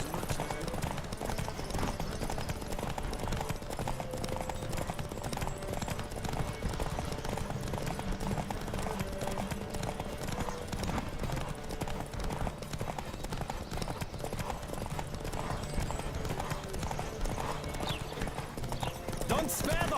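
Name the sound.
galloping horse in a race in The Witcher 3 video game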